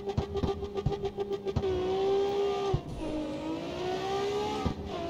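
A car accelerating in a straight-line drag race in CarX Street, engine note rising steadily in pitch through gear changes, loud and continuous after a few short mechanical clicks at the start.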